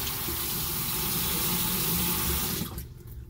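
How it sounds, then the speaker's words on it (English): Water runs steadily from a tap while an arm is rinsed with a loofah. The close, even gush lasts a few seconds, then cuts off and leaves a few faint drips. "Rinsing the arm off."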